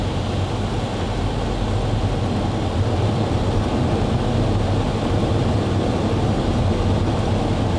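A Boeing 757's engines roar in reverse thrust during the landing rollout, a loud, steady, broadband rush that holds unbroken throughout with no voices.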